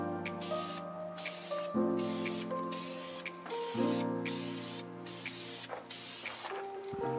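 An aerosol can of Dupli-Color Metalcast Blue base coat hisses in repeated short bursts as it sprays paint onto an Integra valve cover, with faint tonal whines between passes.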